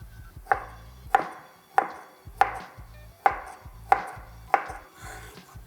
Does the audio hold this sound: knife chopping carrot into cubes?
yes